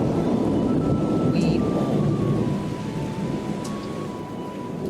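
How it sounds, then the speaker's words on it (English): Thunder rumbles loud and deep in the video game Bravely Default, a long rolling peal over steady rain that eases slightly toward the end, with faint tonal game sounds in the background. "the surprisingly loud variation of Thunder rolled"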